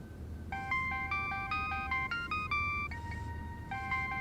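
A mobile phone ringtone plays as a repeating electronic melody of bright beeping tones, fairly loud and steady for several seconds over low room hum, with no talk.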